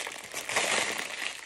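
Plastic packaging crinkling and rustling as it is unwrapped from a straw hat, a short, close, continuous crackle.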